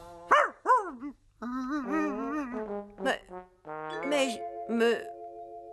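Cartoon dog barking in short bursts with whimpering yelps, close and fairly loud, mixed with voiced character vocalisations.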